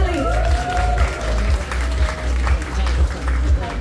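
Audience applause at a Mother's Day celebration event, a dense burst of clapping from a crowd with voices and a tonal sound running through it.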